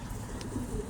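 A soft, low coo of a racing homing pigeon sits faintly in the background amid a steady murmur, brief and distant.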